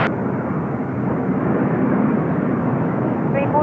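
Airbus A350 airliner at Incheon Airport, a steady loud broadband roar of jet engines, constant and unbroken throughout, with a brief higher whine near the end.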